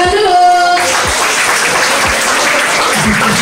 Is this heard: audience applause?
yes